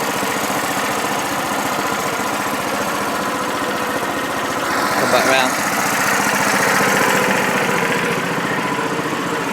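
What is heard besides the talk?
engine idling in gear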